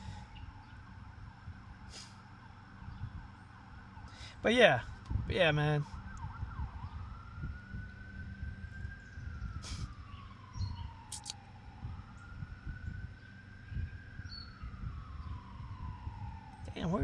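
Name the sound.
ambulance siren passing outside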